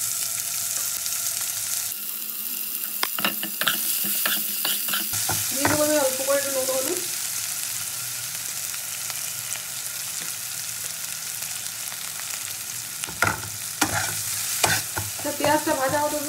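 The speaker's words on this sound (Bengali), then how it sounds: "তো ফোড়নটা আমার ভাজা হয়ে গেছে, দেবো প্রথমে আমি পেঁয়াজ কুচি" Chopped medium onion fries in oil after whole-spice tempering, a steady sizzle broken by bursts of spoon stirring and scraping against the pan, with someone speaking briefly over it.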